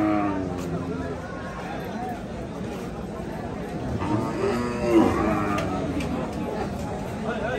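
Cattle at a rural cattle market lowing with drawn-out moos, one louder call near the middle, under a busy murmur of crowd chatter and people talking nearby.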